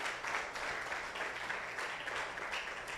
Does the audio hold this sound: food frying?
no